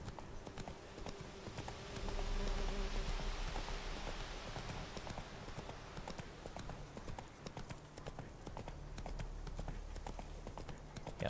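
Steady clip-clop of a horse's hooves trotting in The Witcher 3 video game, a continuous rhythmic patter with ambient game sound beneath and occasional faint speech.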